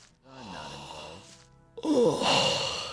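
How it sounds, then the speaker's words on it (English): A long, loud drawn-out yawn in the video game Gothic, with a breathy, moaning quality, coming through walls, rising into a strained final stretch after a short pause. "that was a loud yawn. Came all the way through the walls, too."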